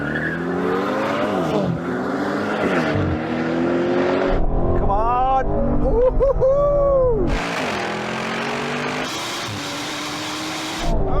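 Aston Martin Valkyrie, Vanquish and V12 Vantage cars launch in a drag race, engines revving and climbing through repeated gear shifts, with a stretch of squealing tires in the middle and loud roaring acceleration resuming after.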